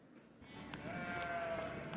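A single sheep bleats in a long, wavering call that rises clearly above faint outdoor background noise, close to the listener, in the Faroe Islands.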